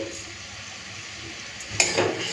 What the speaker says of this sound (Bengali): এরপরে মশলাটাকে কষে নেব